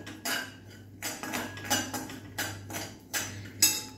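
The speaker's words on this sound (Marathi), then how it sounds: "रवा घातलाय मी आता आणि हा ना सोनेरी रंगावरती आपल्याला भाजून घ्यायचा आहे।" Semolina roasted in ghee in a pan for rava kheer, a spoon scraping and knocking against the pan in a steady run of about eight sharp strokes over a low, constant hum.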